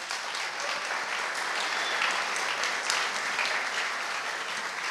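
Audience applause fills a hall at an artist-portrait event honoring Hermeto Pascoal, steady and dense throughout with no voices above it.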